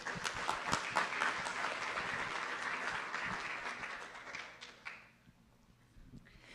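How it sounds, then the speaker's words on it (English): An audience at a school board meeting claps steadily for about five seconds, a broad even patter that thins and fades out near the end. A few stray claps follow in the quiet afterward. "Let's give them a round of applause."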